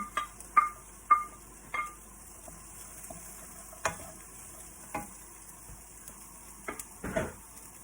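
Shallots and Chinese sausage stir-frying in a pan, a soft continuous sizzle broken by a series of sharp scraping and clinking strokes of the spatula, close and moderately quiet.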